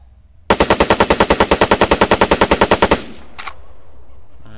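Automatic gunfire in Arma 3 from a CAR-95 rifle, a loud, close, rapid burst of about twenty evenly spaced shots lasting over two seconds, then a brief faint clatter and quiet.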